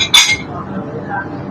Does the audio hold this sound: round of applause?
no